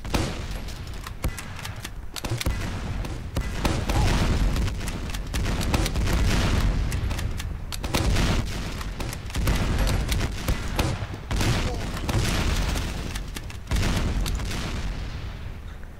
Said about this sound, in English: It's literally just throwing grenades at each other.